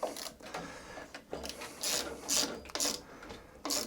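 A ratchet clicks in short bursts while snugging up screws on the carburettor of an Allett Kensington mower, rapid close pawl ticks with brief pauses between turns.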